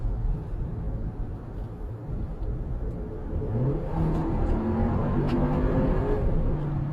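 A Toyota Grand Highlander hybrid SUV accelerates, its engine and road noise swelling steadily as heard from inside the cabin, a low, rising drone with no voices.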